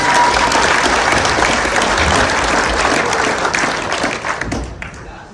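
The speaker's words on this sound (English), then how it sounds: "One more round of applause for those guys, please." Dense, steady applause from a banquet audience at an F4WM event in Libby, Montana, holding full for several seconds before tapering off into a few last claps.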